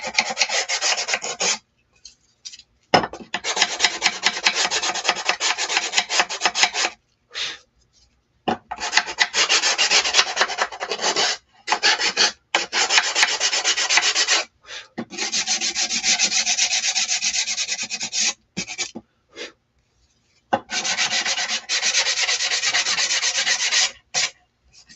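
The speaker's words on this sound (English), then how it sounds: "I'm going to come in and just kind of sand the inside edge so we get some of that paint off." Close, steady rasping strokes of sandpaper against the painted inside edge of a wood piece, coming in long bursts with short pauses between them.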